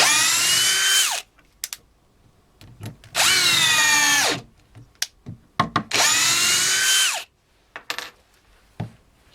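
A Metabo PowerMaxx BS 12 BL Q 12V cordless drill driving screws into wood runs in three long, close bursts, each winding down, with small clicks and knocks of handling in the pauses.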